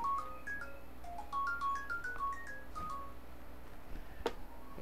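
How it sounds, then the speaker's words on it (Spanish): A phone ringtone plays a bright, stepping electronic melody that repeats as a looping tune. It sounds in a room during a bongo percussion class, steady and moderately loud, with a sharp click near the end. "No podemos atender ese teléfono."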